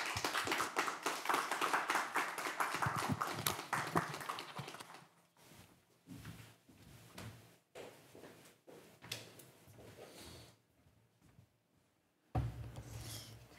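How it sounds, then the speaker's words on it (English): Applause from a church service congregation rises for a few seconds then thins to scattered claps, shuffling and taps, with a burst of louder noise at the end. "a big round of applause"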